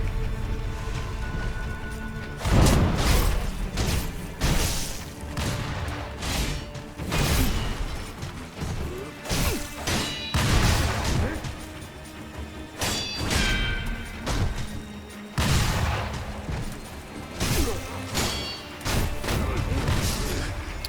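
Repeated heavy booms and crashes from cannon fire in the video game Sekiro: Shadows Die Twice, several loud blasts spaced a few seconds apart over a continuous rumbling battle background.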